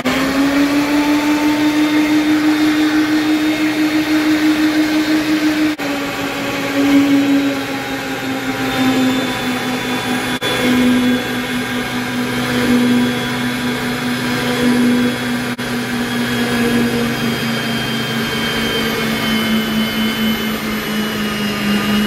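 A 1961 pipe threader machine runs steadily under power from an Onan P4500i generator in a shop, giving a constant loud motor drone with a low hum and slight pitch dips as the load shifts.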